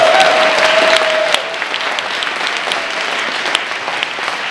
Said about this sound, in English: Give him a applause.